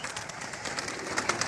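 Pigeons cooing on a rooftop loft of red flying pigeons, a flock of about 85 birds. Soft, steady cooing and fluttering continue through the short clip without a break. No one speaks.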